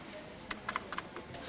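Keys tapped on an old home computer keyboard, several quick irregular clicks in short bursts, close and fairly quiet over a low room hum.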